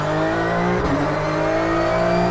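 A Porsche 911 GT3 racing car engine holds a loud, steady, high-pitched howl from close by, with no talking.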